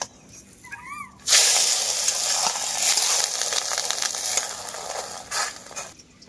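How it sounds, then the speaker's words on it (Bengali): Egg and gram flour batter, spread flat like a round bread, fries in a pan after being flipped, giving a loud, steady broadband sizzle that swells after a quiet start and continues throughout without talk. "আর এক পিঠটাও খুব ভালো করে ভেজে নেব।"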